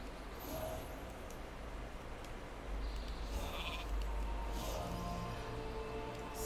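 Sheep bleat in the video game Eon's Fringe, a few calls rising over a steady low ambient bed, moderately close with no talk.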